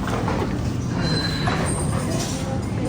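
A Jakarta KRL commuter train rumbles loudly past at a station, wheels grinding and squealing on the rails over a steady mechanical roar, with no voices standing out.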